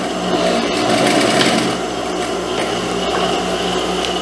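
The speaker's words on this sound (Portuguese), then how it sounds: "E vou passar a costura" A sewing machine running a seam on a tulip-sleeve blouse, a loud, continuous whirring hum with fast needle rhythm, steady and close throughout, no one talking.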